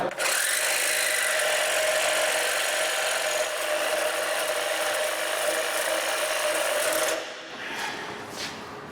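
A cordless power tool with a weak battery runs steadily against the sump pan bolts of a Fiat Grande Punto, a loud continuous whirring and ratcheting buzz that lasts about seven seconds and then drops to quieter clicks.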